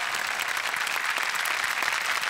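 An audience on a Marathi comedy stage show applauds for singer Rahul Deshpande, a dense, steady burst of clapping from a large crowd that holds throughout.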